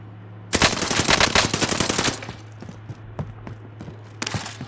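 Rapid automatic gunfire in Call of Duty: Modern Warfare, a dense loud burst followed by scattered single shots fading into sparse pops, with a low steady hum underneath.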